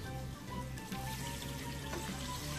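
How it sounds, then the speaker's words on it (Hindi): A glass of water is poured into a pot of nihari meat, a soft continuous splashing and sizzling at low level with no voices. "मैंने एक गिलास पानी डाला है"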